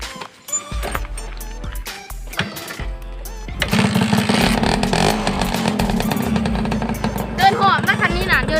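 A modified Honda Tena 110cc motorcycle engine bursts into loud, sustained revving after someone speaks, the buzzing roar holding steady and close for several seconds.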